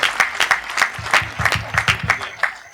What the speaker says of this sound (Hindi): बहुत जोरदार तालियां बजाकर संजय खत्री को आमंत्रित करिए